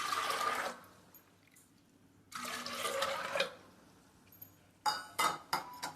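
Water poured into a pot of soaked peas in a kitchen, in two splashy pours separated by quiet, followed by a few sharp clinks of a metal vessel against the pot.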